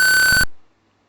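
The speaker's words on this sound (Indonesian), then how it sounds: "Dapat dilihat bahwa buzzer menyala dan LED-nya sendiri juga menyala." A buzzer on a motion-sensor embedded circuit with an LED gives one loud, steady electronic beep lasting about half a second, then cuts off abruptly into silence.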